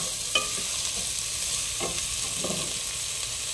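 Onions and spices with dried fenugreek leaves fry in a pan for chicken khichdi, a soft steady sizzle with a few scraping stirs, fairly quiet and without talk.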